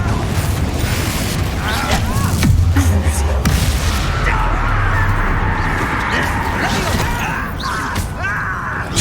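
In Hogwarts Legacy, the fiery Confringo spell bursts with a deep booming blast amid busy combat noise, while a voice shouts over the action.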